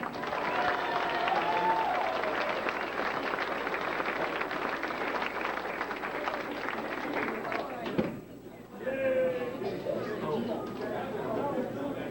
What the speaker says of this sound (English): let's give a big round of applause for your champion of the Stock Pairing 2000, Dana Jensen